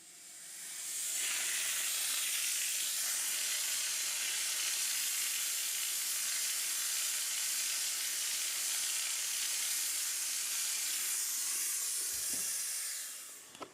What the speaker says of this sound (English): Here, on the linoleum, I found an old stain and decided to try cleaning it with steam.